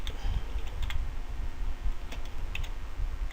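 Rapid, irregular clicking of fingers typing on a computer keyboard, close and fairly quiet, with brief pauses between bursts of keystrokes and no talk.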